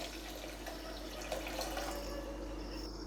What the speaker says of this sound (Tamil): 1 டம்ளர் அளவு தண்ணி சேர்த்துக்கலாம்.